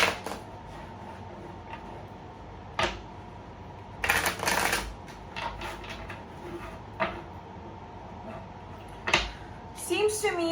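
Tarot cards are shuffled by hand in several separate bursts of quick riffling and flapping, close and crisp, with quieter pauses between, while a person speaks quietly in between.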